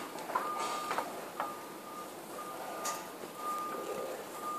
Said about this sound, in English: That sounds like an alarm.